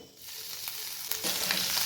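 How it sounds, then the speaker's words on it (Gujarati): Ginger-garlic-chili paste with cumin and asafoetida sizzles in hot oil while being stirred, a close, bright frying hiss that swells louder after a soft start, with scraping stirs. "પેસ્ટ ઉમેરી લીધા પછી બધું સરસ સાંતળી લઈશું"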